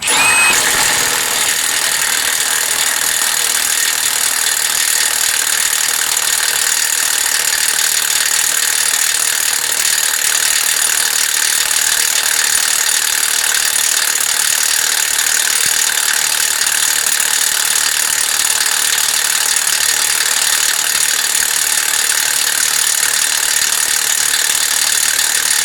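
Milwaukee Fuel impact wrench running a lug nut, a loud continuous high-pitched whir and hammering buzz that holds steady for the whole stretch, close to the listener with no talk over it.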